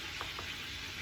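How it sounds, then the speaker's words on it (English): Ground meat and sausage browning with onion in a pan for Sunday sauce, a faint steady sizzle with a couple of soft stirring scrapes, quiet and close. "while our meat is still browning up"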